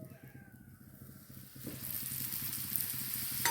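Banana paratha made with sour curd frying in a little oil, a soft steady sizzle that swells into a fuller hiss partway through, close and heard alone with no talk.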